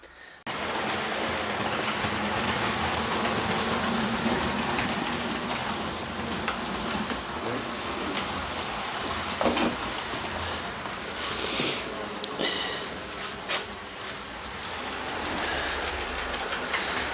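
An HO scale Athearn 1970s locomotive hauls a full consist of cars around a model railway, giving a steady, continuous rolling rumble with faint clicking from the track, moderately loud, running throughout with no talk.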